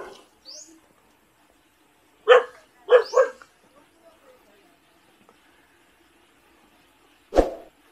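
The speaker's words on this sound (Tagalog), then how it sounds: "tapang ng aso." A fierce dog at a birthday gathering by a kubo hut lets out a few sharp, isolated barks in short bursts, separated by long quiet gaps.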